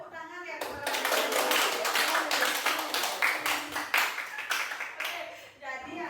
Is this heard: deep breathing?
no